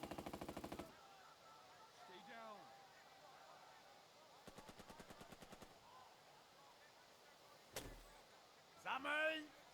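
Bursts of machine-gun fire rattle in rapid volleys, followed by a heavy cannon blast and a low rumbling impact as a tank fires on a machine-gun nest in the wartime strategy game Burden of Command, with someone talking between the bursts.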